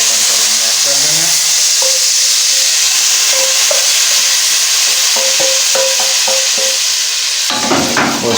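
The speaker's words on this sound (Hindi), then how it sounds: "तो अभी हम इसको तड़के को जो दाल बॉयल की थी उसमें ऐड कर देते हैं।" Hot tadka tempering poured into boiled mash dal sizzles loudly with a bright, constant frying hiss, while a spoon scrapes and stirs the pot in quick irregular strokes.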